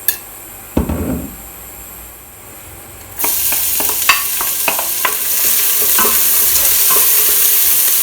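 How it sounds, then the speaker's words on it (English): Chopped onions sautéing in olive oil over medium heat, starting with a quiet spell and a brief clatter, then a sudden sustained sizzle broken by repeated spoon taps and scrapes against the pan. "we'll begin by sauteing the chopped onions in 2 tablespoons of olive oil over a medium heat."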